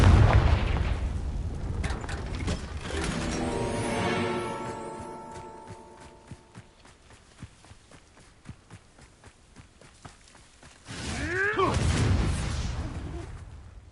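A fire curse in the video game Hogwarts Legacy bursts into a loud rumbling explosion, followed by rapid footsteps and scattered impacts, then another heavy whooshing blast, with a voice speaking briefly.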